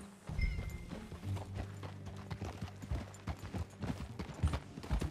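Rhythmic clip-clop of horse hooves at a steady trot in the video game Red Dead Redemption 2, close and fairly loud, with a brief whinny early on and no talking.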